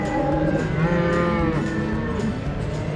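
Cattle on a road during a cattle drive moo loudly and continuously, several overlapping low drawn-out calls close by, with no talking.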